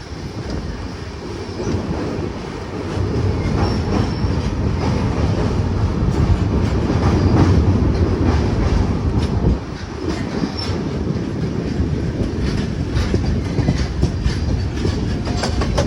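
A moving passenger train, the Patna summer special running late, rumbles steadily with continuous wheel clatter and occasional faint squeals, heard from inside at close range throughout with no talking.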